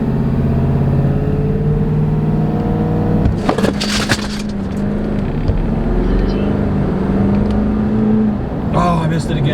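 Tuned 2020 Ford 6.7 Powerstroke diesel pickup launching in second gear in four-wheel drive, a loud sustained engine roar with rising pitch and a quick shift, heard from inside the cab with occasional voices.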